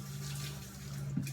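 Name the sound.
knife being rinsed under running tap water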